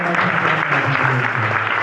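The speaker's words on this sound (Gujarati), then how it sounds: "જોરદાર તાળીઓના" A crowd of children and guests claps loudly at a rural girls' school enrolment festival, a continuous, dense burst of applause that holds steady from start to finish.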